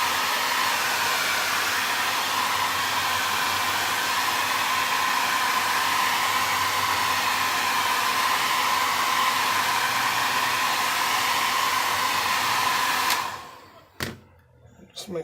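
A heat gun warms an iPod Touch 4th generation during a repair, a steady loud blowing roar held close for about thirteen seconds before cutting off, followed by a few faint handling clicks.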